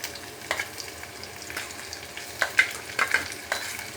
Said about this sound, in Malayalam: എല്ലാം കൂടെ നല്ലതുപോലെ വഴറ്റിയെടുക്കണം